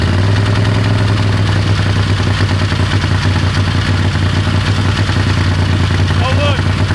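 Methanol-fuelled Turbo 670 dragster engine cranking and running, a loud, steady low rumble with dense mechanical clatter that holds throughout, close to the microphone.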